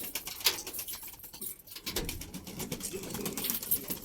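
Pigeons moving about nearby with soft coos, rustling and occasional wing flutters, against a light background hum.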